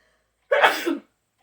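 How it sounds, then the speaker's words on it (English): A single close, loud sneeze bursts out in a quiet room, sharp and lasting about half a second. "I'm going to sneeze."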